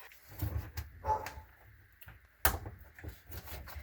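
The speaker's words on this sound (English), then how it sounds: "Sometimes she just hears me talking out here in the video and she'll bark." A dog barks a few times at a distance, sharp scattered yelps with a thud of a door in between, fairly faint.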